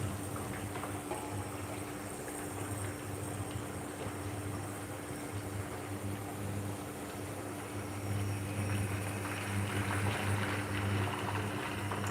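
Chicken light soup simmering in a pot on a stove over a low flame, steady bubbling and hissing with a low burner rumble, continuous and fairly quiet, swelling slightly toward the end.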